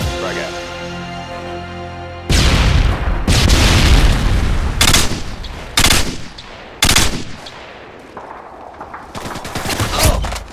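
Video game search-and-destroy match with loud bursts of gunfire and booming impacts, a frag grenade blast among them, several sharp explosive hits in quick succession over a tonal music bed, close and intense, with faint voices.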